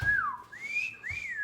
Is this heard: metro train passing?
no